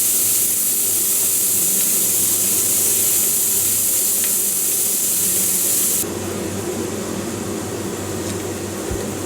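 Onions frying on a tawa in vegetable oil and butter for Bombay-style pav bhaji pulao, a steady close hiss of sizzling that drops slightly in loudness partway through, with no talk.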